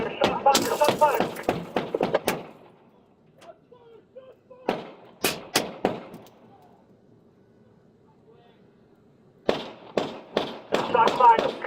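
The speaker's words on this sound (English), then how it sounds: "there's shots fired" Rapid gunfire aimed at police officers during a police chase in Dallas: sharp cracking shots come in rapid volleys at the start, middle and end, with quieter gaps between them, captured loudly at close range.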